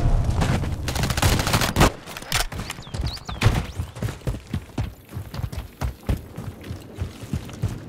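Heavy automatic gunfire from SCAR-L and KRISS Vector rifles in a Call of Duty Modern Warfare II combat mission, dense overlapping bursts and impacts close by, thinning into scattered shots.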